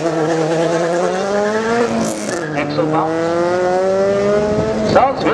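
A naturally aspirated car engine revs in rising and falling sweeps, with some tire squeal, loud and close while people talk over it.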